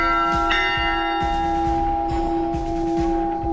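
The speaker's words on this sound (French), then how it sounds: "on va sonner la cloche cette fois-ci pour le premier Canadien en 2021" Church bell of Villa Prati, a village site in Italy, ringing steadily in repeated clangs with a sustained ringing hum, loud and close, with no talk.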